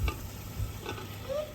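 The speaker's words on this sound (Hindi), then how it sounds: "और अभी जो है हम ऐड कर रहे हैं चिकन।" Chicken pieces dropped into a pan of sizzling spice masala, a soft crackling fry with a few stirring scrapes and brief bursts of hiss over a steady low sizzle.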